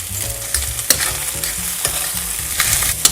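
Orzo pasta stirred into peas frying in a pan: a loud, steady sizzle with repeated scraping stirs of a utensil against the pan, no voices.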